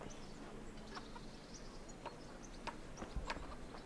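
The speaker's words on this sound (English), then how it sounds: "Chicken." Chickens cluck in a medieval village setting in Kingdom Come: Deliverance, several short scattered clucks heard faintly over a steady ambient background.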